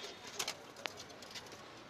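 Young pigeons, including a green-necked squab, coo softly and faintly in a few low, brief calls against quiet background noise.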